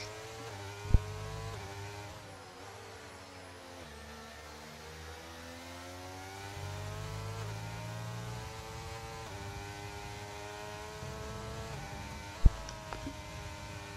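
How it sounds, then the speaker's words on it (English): Open-wheel race car engines in the F1 23 video game, straining through the final corners of a race in Spain: a faint, sustained engine drone whose pitch rises and falls, with two sharp clicks. "you can really hear the straining of the engines actually coming through the final couple of corners there as Larkin is into the pit lane"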